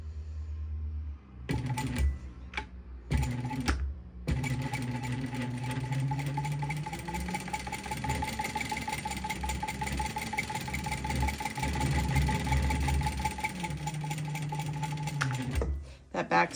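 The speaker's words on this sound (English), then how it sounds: "I am going to go ahead and back stitch at the top, beginning and end" A sewing machine runs steadily while backstitching a topstitched seam, a brief start-stop stutter at the beginning before a long continuous run, close and loud with some talking over it.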